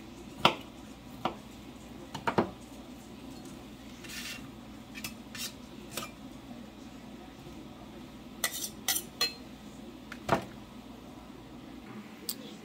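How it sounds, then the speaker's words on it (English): A knife cuts through fresh strawberries on a board in a kitchen, giving scattered sharp taps and soft slicing clicks at irregular intervals, quiet and close, with no talking. "So just slice the strawberry like this."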